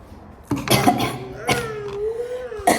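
A sharp cough bursts out close by, then another, with a voice carrying a tone between them and dishes faintly clinking.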